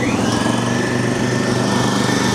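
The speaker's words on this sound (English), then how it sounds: "All right, so I'm going to turn on the compressor first." An air compressor powered by an electric truck runs steadily close by, giving a continuous buzzing motor drone with a rapid, even mechanical pulse and no break over a couple of seconds.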